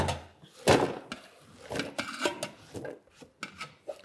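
Onions being coarsely chopped for Szegediner goulash, a string of uneven knife strokes and board knocks, one sharp loud chop early, then lighter irregular cuts and scraping close by.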